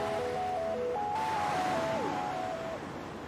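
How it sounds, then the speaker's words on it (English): Waves wash up a beach under a sea breeze, a continuous broad surf roar with a soft synthetic melody of sustained tones layered over it, fading slightly near the end. "The sea breeze blows the leaves, waves sweeping the beach."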